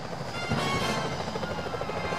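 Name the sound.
security helicopters in video game Sly Cooper: Thieves in Time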